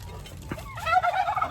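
Chickens and ducks on a small garden poultry farm being fed vegetable scraps, heard as a brief burst of fowl calls and gobbling chatter rising after a short knock, fairly close and without talk.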